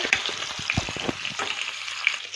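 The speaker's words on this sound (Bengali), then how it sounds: "তেলটা গরম হয়ে গেছে মাথাগুলো ভেজে নেব" Rohu fish heads fry in hot oil, a close crackling sizzle with a few sharp pops and spits over a brief moment, no voices.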